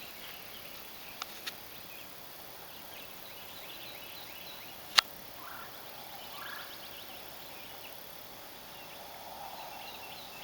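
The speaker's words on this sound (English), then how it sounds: "Maybe it's a turkey." A wild turkey gobbles once in the distance outdoors near a deer stand, a brief faint call over steady quiet background hiss, with a couple of small clicks earlier.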